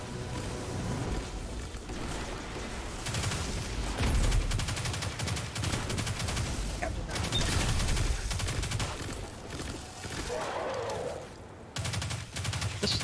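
Continuous game gunfire and explosions fill the mix in the video game Destiny, with pistol shots lost in a dense, loud stream of weapon effects and action sounds.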